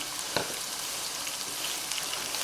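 Ground onion and tomato paste sautéing in a pan for a mutton fry made without coconut, a soft continuous sizzle and crackle with a faint stir near the start, no voices.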